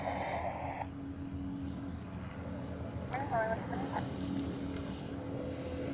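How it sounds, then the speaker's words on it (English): A small FedEx Cessna Caravan single-engine turboprop drones steadily as it comes in to land at a Hawaii airfield, a low continuous engine hum with a brief faint chirp partway through. "there's one of the smallest FedEx planes coming in. So we have a Cessna Caravan here."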